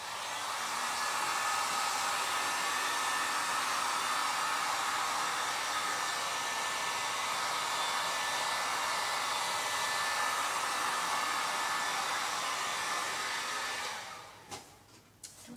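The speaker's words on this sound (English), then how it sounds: "Let me get my heat gun out one more time." A heat gun blows steadily over an acrylic pour painting, a constant loud whooshing fan noise that runs unbroken for about fourteen seconds before shutting off, followed by a few handling clicks.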